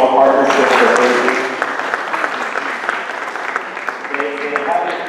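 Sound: audience applause

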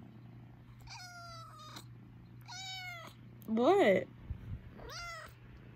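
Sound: cat meowing

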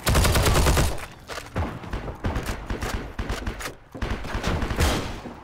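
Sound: gunshots in the video game Heroes & Generals

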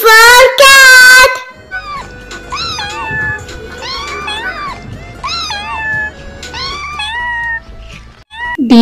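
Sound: cat meowing

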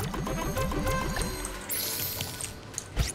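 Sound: water pouring on a plant, from video game Island Saver

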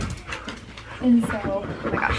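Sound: dog barking

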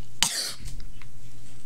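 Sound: cough

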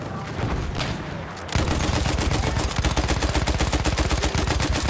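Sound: gunfire in Battlefield 1, from a video game

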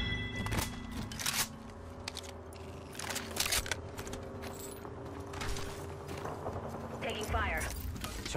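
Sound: shield cell charging in Apex Legends video game

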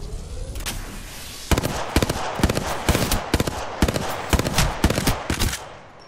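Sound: gunfire in video game Apex Legends

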